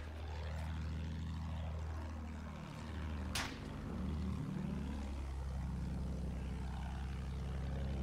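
A disabled attack plane's propeller engine in Battlefield 1 drones steadily and loud, its pitch sweeping down and back up as it passes, with a brief sharp burst of noise midway.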